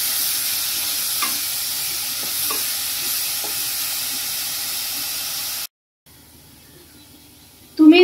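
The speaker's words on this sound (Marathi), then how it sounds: "कांदा आपण व्यवस्थित परतवून घेऊया।" Onion is stirred and sautéed in a pan for a corn mixed vegetable gravy, giving a steady soft sizzle with a few faint spatula scrapes. The sound cuts out briefly near the end and then returns with a short louder clatter.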